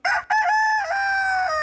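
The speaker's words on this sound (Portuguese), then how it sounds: "Vai lá, Galo Joaquim" A rooster crowing as a sound effect: one loud, close, drawn-out crow that opens with a short sharp note, then holds a long ringing call to the end.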